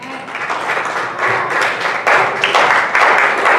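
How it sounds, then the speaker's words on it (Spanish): Loud, sustained applause from a church congregation, building in surges of dense clapping that swell and hold steady throughout, with no talking over it. "Con un fuerte aplauso, amén"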